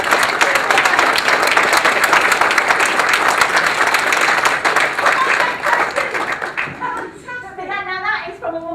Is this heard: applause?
yes